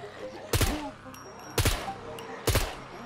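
Three separate short bursts of automatic rifle fire in the survival game SCUM, each a sharp loud volley about a second apart, over quiet ambient background.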